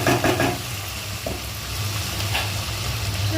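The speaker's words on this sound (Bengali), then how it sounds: "চিকেনটা দেখুন ফ্রাই হয়ে গেছে" Chicken pieces fry in a pan for street-style Schezwan fried rice, giving a steady, fairly loud sizzle with occasional clicks of stirring and no one speaking.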